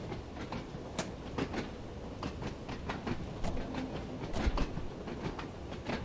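Simulated train on the Island Line in Train Sim World 2 slowing under braking, a steady rumbling rolling noise with rhythmic clicks and knocks from the wheels, moderately loud and continuous.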